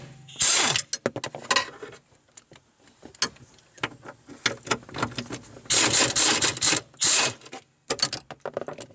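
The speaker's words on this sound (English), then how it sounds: "are now ready to undo the two nuts that hold the master cylinder to the firewall" A ratchet undoing the two nuts that hold a brake master cylinder to a car's firewall clicks in quick repeated bursts, some longer stretches of rapid clicking and short pauses between strokes, close and fairly loud with no talking.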